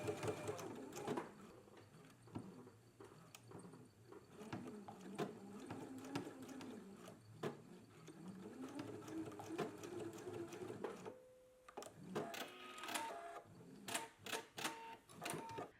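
A sewing machine stitches a carrier seam in quick, uneven bursts with clicks and pauses between runs, and the faint whir of the motor rises and falls.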